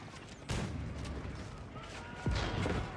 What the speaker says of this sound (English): One royal cannon here tries to fight off against the two bombards.